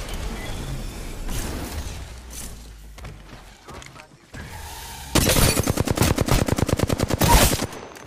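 Rapid automatic gunfire in a ranked online shooter game, bursts of shots with a long loud rattling volley toward the end, alongside game effects and faint voices.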